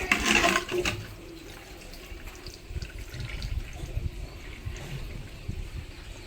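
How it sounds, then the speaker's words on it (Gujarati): Running water gushes into a container with a strong splash at first, then settles into a steady, rushing flow that continues close by without talk. "પાણી ચાલુ જ છો ભરી જ નાખું"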